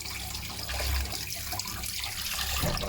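Hot water running steadily into a sink while carbon deposits are cleaned, a continuous close rushing flow with slight surges and no voices.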